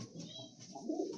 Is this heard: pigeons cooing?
yes